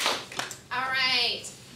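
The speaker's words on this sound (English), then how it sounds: "Will you give them 2 claps, please?" A classroom of students gives two quick claps in unison, sharp and fairly close, followed at once by a teacher talking.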